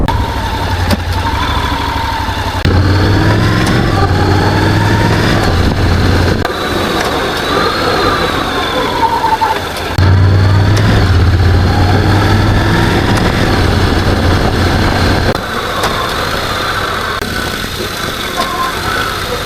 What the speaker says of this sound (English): I'll show you what it's like when it's changing gear